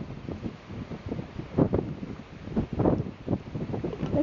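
Wind buffeting across the open Isle of May, loud gusty rumble and whoosh pulsing irregularly against the microphone with no clear voices.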